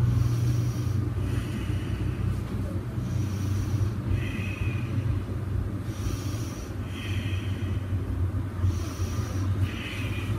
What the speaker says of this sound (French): 5 respirations.